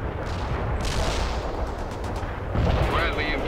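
Gunfire from a battle in the video game World in Conflict, a steady dense rattle of shots and booms throughout, loud and continuous, with some faint game voice chatter underneath.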